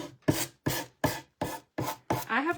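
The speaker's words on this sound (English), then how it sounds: "Just sanding off my excess here" Sandpaper rubbing off excess decoupage paper on a wooden bread box, six evenly spaced rasping strokes, close and steady with no talking.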